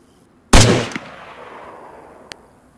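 A single loud gunshot in DayZ near a helicopter crash site, a sharp crack with a rolling echo tail, then a smaller distant pop about two seconds later.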